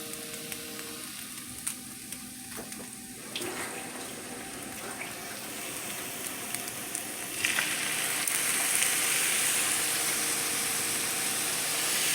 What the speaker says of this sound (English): I add that, then I add a little water to it.